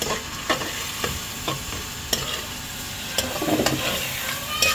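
Chicken frying in oil with black pepper for a chicken spaghetti dish: a spoon stirs it with regular scraping knocks against the pan over a continuous close sizzle, with no talk.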